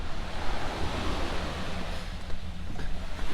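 High ocean waves at an island resort in Pangkor Laut, a steady broadband rush of surf with wind buffeting the microphone, continuous and fairly loud with no voices.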